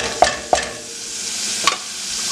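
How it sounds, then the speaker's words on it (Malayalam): A spoon scrapes a pan of tamarind gravy with hot water in a Kerala shallot theeyal, three sharp clinks of stirring over a soft sizzling bubble, close and alone. "ഈ പുളിയൊക്കെ നല്ലപോലെ ഒന്ന് തിളച്ച് മിക്സാവട്ടെ"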